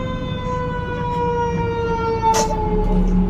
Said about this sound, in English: Fire truck coming.